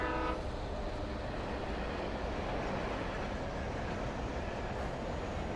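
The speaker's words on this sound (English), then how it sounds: "Oh yeah, train coming through." A train rumbles past in the video game Alan Wake, a dense, steady roar that fills the whole stretch at close range, with a brief horn-like tone at the very start and no talking.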